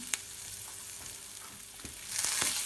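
Shallots sizzle in melted butter in a frying pan, a soft, close crackle with a few sharp stirring knocks, the hiss growing louder toward the end.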